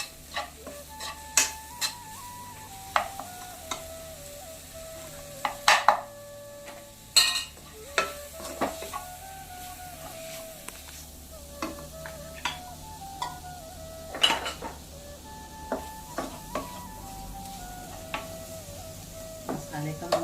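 Crab curry masala stirred in a pan, with repeated scraping and clinking of a spoon against the pan over a low sizzle, close and intermittent across the clip, with no talk.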